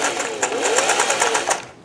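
A sewing machine fitted with a Schmetz universal triple needle stitches in a fast, even rhythm of bright clicking pulses, close and fairly loud, slowing slightly at the end with no talking.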